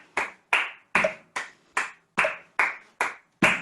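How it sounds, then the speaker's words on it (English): Hand claps land singly in an even, steady pulse, nine sharp claps over a few seconds in a quiet room at a children's rhythm lesson, each clap crisp and close with a short ringing decay. "we're going to bring triplets in with claps"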